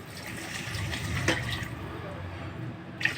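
Water pours into a cooking pan for a tamarind fish stew as a steady rushing stream. It is close and moderate in level, with a faint voice in the background.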